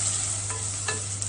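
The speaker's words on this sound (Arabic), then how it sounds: "هنشوح البصله شويه" Onions sizzling in ghee in a clay tagine for an Egyptian pea stew, a steady close frying hiss with a couple of soft stirring scrapes, no voices.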